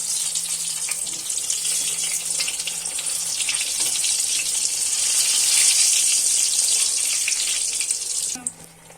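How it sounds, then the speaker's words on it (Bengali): Chili pakoras deep-frying in hot white oil give a steady, bright sizzle that holds for about eight seconds, swells slightly midway, then drops off abruptly near the end; no one speaks. "গরম গরম তেলে ভাজবো"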